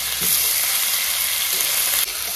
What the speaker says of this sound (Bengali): আর এখন সবজিটা ভেজে নেবো